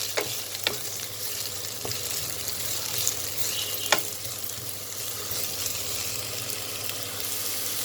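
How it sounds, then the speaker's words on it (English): Chopped vegetables, including capsicum, frying in oil in a pan for roti noodles: a steady, dense sizzle with a few sharp crackles and pops scattered throughout, close and continuous. "Fry it a little bit in the oil."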